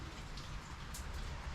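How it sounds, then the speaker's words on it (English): Steady rain patters down in a soft, even hiss of drops on a surface, brief and moderately quiet with no talking. "It has not rained in weeks, but it decided to rain today."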